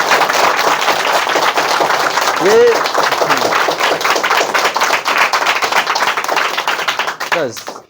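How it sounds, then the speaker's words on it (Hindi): Students in a coaching class clap for a boy named Himesh Tiwari, a dense, steady patter of many hands running for several seconds, loud and close, with a voice briefly breaking through near the middle and again at the end. "हिमेश तिवारी, एक बार इनके लिए ताली बजाओ भैया।"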